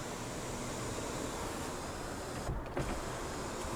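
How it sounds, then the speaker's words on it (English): Electric motor whir of the power sliding rear window on a 2015 Ford F-150 Lariat SuperCrew, a soft steady hum running close and alone, with a small clunk near the end. "on the overhead console, you can power operate that sliding rear window"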